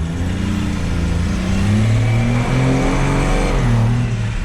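An M57-engined Toyota FJ75 Troopcarrier making 300hp revs loud and close while stuck in third gear, its engine note rising and falling in a bogged, droning pull.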